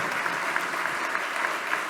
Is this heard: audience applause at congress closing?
yes